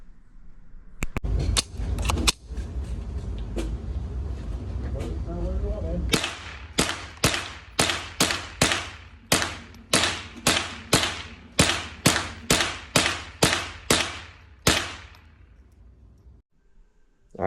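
A restored 37-year-old Marlin Model 60 rifle fires at the range, a rapid series of about a dozen sharp, loud shots in quick rhythm after a few earlier scattered bangs.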